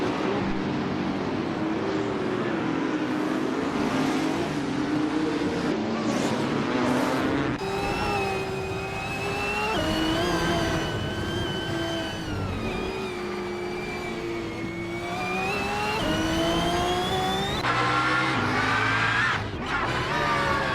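Racing cars in an arcade racing video game roar continuously, engine tones climbing and shifting through gears over a dense, loud mix with steady pitch sweeps and no talking.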